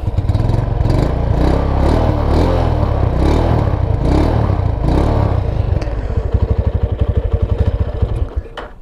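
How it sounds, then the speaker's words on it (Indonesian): A 2011 Honda Tiger motorcycle's exhaust roars close and loud as the engine is revved hard, then drops into a fast rattling idle before sputtering down and cutting out at the end. "Nah, untuk suara knalpotnya seperti ini ya"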